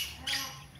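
A pet lovebird gives a brief, sharp squawk close by, a single harsh call over a faint background.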